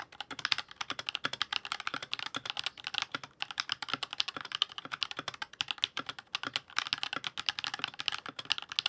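Rapid typing on a magnetic gaming keyboard, dense crisp clacks in quick bursts with brief pauses, close and alone.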